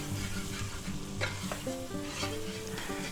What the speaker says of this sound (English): Now we're going to cook that flour taste off. And we're like making a roux here